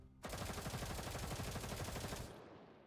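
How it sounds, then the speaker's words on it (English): Rapid automatic gunfire from the video game Girls Frontline 2 rattles in a dense, loud burst for about two seconds, then cuts off into a short fading tail. "the laughter is soon interrupted by a sound of gunfire"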